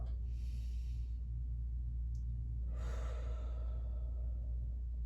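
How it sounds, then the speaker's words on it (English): Breathing out and then in during a seated senior exercise class, a soft exhale early followed by a longer audible inhale, faint over a low steady hum. "you can breathe out as you squeeze, breathe in as you open up"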